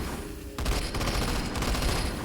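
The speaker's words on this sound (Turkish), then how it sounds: "Sonuçta üçlü ateş eden bir silah olduğu için" A weapon fires in three-round bursts in the zombie game Into the Dead 2, sounding as close, steady, rapid volleys that continue for the whole stretch over constant game background noise.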